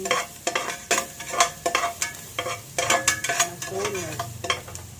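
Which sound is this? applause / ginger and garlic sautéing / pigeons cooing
ginger and garlic sautéing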